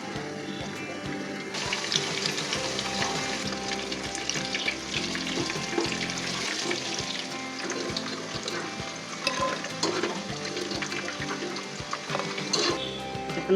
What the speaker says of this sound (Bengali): এখন আমরা ছোট ছোট বিন্দির মতন ভেজে উঠাবো